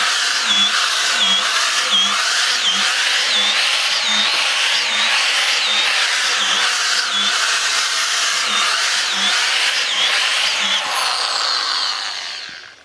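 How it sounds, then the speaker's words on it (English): High-speed drill with a 12mm auger boring repeatedly into logs, a loud whining drone with regular rhythmic pulses about every second, close up, winding down at the end. "It's a high-speed one, so if you want to do it quickly, you'll get through a lot of logs in a quick way."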